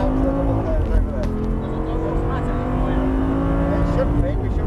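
An Audi R8 V10 sports car engine revs steadily and loud on a track, holding a continuous roar with rising and falling pitch throughout, close by.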